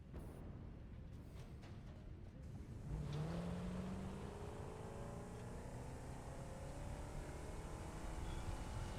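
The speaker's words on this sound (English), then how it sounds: "Let me get my car. Let me get in my ride." A car driving in the factory-building game Satisfactory, its engine starting up after a few seconds and then humming steadily with a rising, revving tone, fairly quiet and alone.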